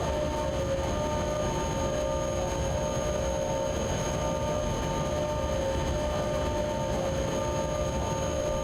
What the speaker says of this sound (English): Going downhill, this locomotive definitely struggles to keep the speed